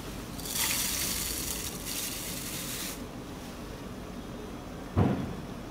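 About 1.5 liters of water is poured over oats to soak them: a gushing pour lasting roughly two and a half seconds with a brief break, then near quiet and a single sharp knock.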